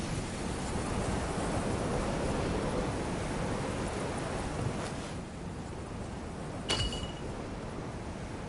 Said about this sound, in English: Looks like I can make waves by smashing into the ground.